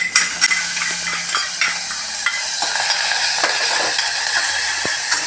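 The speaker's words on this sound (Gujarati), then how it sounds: "જો આદુ મરચાં નાખી દીધા છે. એને હવે સાતળી નાખવાના." Ginger and green chilies sauté in hot oil with a loud, steady sizzle, broken by frequent scraping and stirring strokes against the pan, and no talk.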